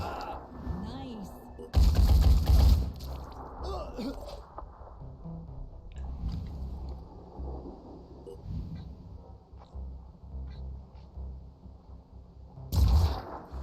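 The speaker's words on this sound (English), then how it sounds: "I'm gonna have Naive shoot that guy" Gunfire from a soldier shooting in the tactical game Phoenix Point: two loud, sharp bursts, one near the start and one at the end, over game background sound with a person talking between them.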